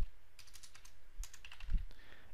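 Light typing on a computer keyboard, a few quick key taps in small clusters, close and quiet against a hushed room.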